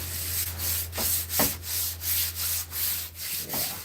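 A piece being sanded smooth by hand, with steady back-and-forth rubbing strokes in an even rhythm, close and clear over a low constant hum.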